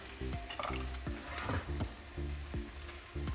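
Curry leaves and chopped tomato frying in oil, a continuous sizzle broken by repeated scraping stir strokes in a steady rhythm, close and alone without speech.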